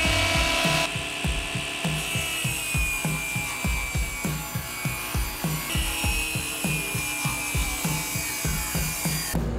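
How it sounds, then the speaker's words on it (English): Plywood drawer faces are sanded by hand in a kitchen, a steady rhythmic rasp of repeated back-and-forth strokes, close and continuous with no talk. "sanding these guys down so I can put veneer on them because they're a little rough even though that's sanded ply"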